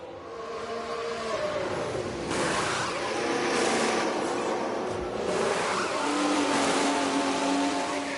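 Formula 1 cars in F1 Manager 24 at the Catalunya circuit, a continuous droning engine roar with rising and falling revs and a faint squeal, steady and moderately loud throughout with no talking.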